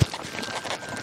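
Horse hooves stepping in an arena, a steady series of soft, close clip-clop footfalls repeating over about a second, with no voices.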